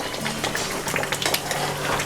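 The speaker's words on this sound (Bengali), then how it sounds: "এটাকে আমরা আবার একটু নেড়ে নিচ্ছি।" Spoon or spatula stirs boiled potatoes for Kashmiri alur dum in a cooking pan, giving soft scraping and clinking against the metal over a low background hum, with no talking.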